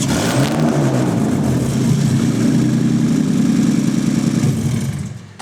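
A BMW E46 330Ci 3-litre straight-six engine runs loudly and steadily nearby, a deep, even rumble at a high idle that fades slightly at the end.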